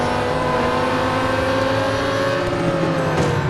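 Lamborghini Huracán GT3 race car engine in the Real Racing 3 mobile racing game, a loud continuous high-revving drone with engine tones shifting as it accelerates, no voices.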